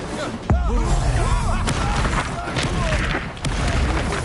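The Incendio fire spell being cast in the Hogwarts Legacy video game: a sudden booming burst followed by sustained roaring, crackling combat noise, loud and close, with voices and grunts over the top.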